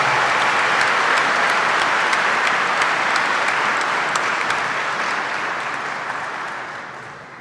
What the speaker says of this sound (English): Let's have another round of applause for our doctoral graduates.